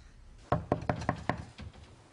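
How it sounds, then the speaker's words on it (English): Knocking on a door in a daytime soap opera scene: about six firm, evenly spaced raps, close and clear, the last one softer, with no voices over them. "Why isn't she answering the door, Miguel?"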